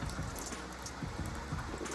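Rain comes down outdoors in a hilly village area, a continuous patter with scattered nearby drops and splashes, steady and fairly close, with no talking heard.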